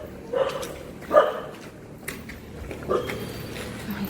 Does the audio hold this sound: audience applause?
no